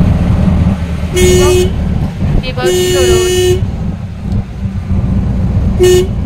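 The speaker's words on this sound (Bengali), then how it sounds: "যখনই আমি কিছু বলবো তখনই হর্ন বাজাচ্ছে।" A car horn honks several times, short and long toots, over loud road traffic and engine rumble.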